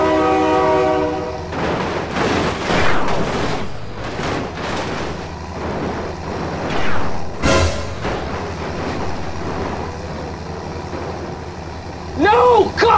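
A train in the BeamNG Drive game rolls by with a rumbling, clattering rush, a short horn blast at the start and brief squealing tones near the end, while a voice shouts over it.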